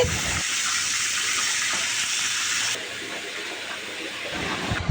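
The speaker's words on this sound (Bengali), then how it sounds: "রোস্টের জন্য চিকেনটাকে ভেজে নিচ্ছি" Chicken pieces for a roast fry in a pan with a steady, loud hissing sizzle that carries on without a break, and no voices are heard.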